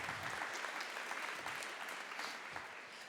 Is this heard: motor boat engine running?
no